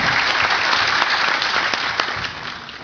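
Audience at a Tekirdağ urban planning meeting applauds, a dense, steady clapping that fills the room and fades slightly toward the end.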